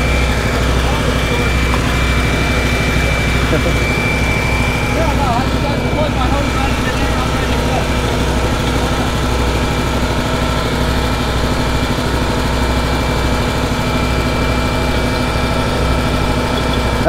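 A big air compressor motor idles aboard a gold dredge in the Bering Sea off Nome, Alaska, giving off a loud, steady low rumble with a constant mechanical hum; voices talk over it.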